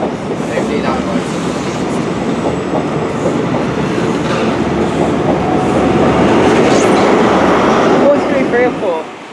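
A train at Paignton station rumbles steadily and loudly throughout, with rhythmic wheel clatter and the sustained roar of carriages moving past at close range.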